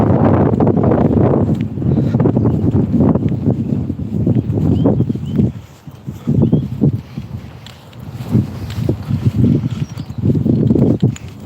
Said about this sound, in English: there might be a lot of wind